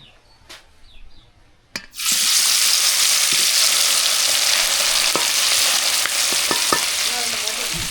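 After a few quiet clicks, a loud steady sizzle of tilapia (jilebi fish), seasoned with chili powder, turmeric and salt, frying in hot oil starts up close, with occasional pops and crackles.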